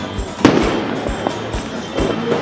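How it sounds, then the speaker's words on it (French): Fireworks bursting over a Delhi rooftop during Diwali, with several sharp booms and crackles at irregular intervals, one loud close blast and others further off, over a steady crowd and city din. "On est vraiment dans les feux d'artifice."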